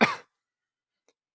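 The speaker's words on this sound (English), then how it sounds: "I hope I didn't cough directly into the mic." A single short cough burst right at the start, close and fairly loud, followed by silence with a faint tiny click near the end.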